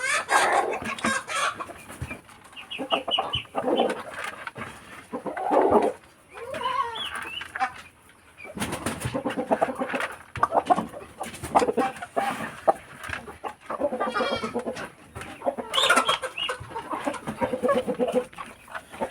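Backyard chickens cluck and squawk at feeding time, a busy, close, irregular chorus of overlapping calls with short pauses, some louder bursts standing out.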